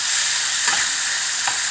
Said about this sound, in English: So you just fry it very well till it turns to brown.